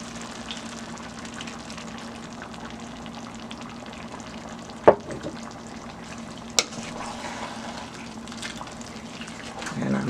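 Red palm oil is poured into a pot of potato greens simmering on the stove, bringing a steady bubbling sizzle with two sharp clinks of a utensil midway and a rising scrape near the end.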